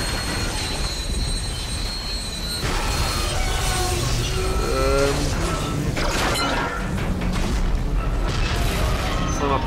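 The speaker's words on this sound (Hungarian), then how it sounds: "Szana szétesik a kurva villamos." A tram crashes and breaks apart in the video game Dead Space 2, with heavy booms, grinding metal and screeching squeals building into a loud, chaotic clatter.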